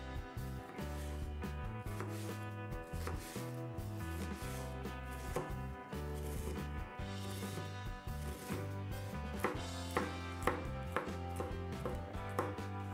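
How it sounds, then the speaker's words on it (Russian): A knife chops rapidly and steadily through onion and garlic on a cutting board, the crisp taps running under continuous background music. "Лук и чеснок нарезаем на небольшие кубики."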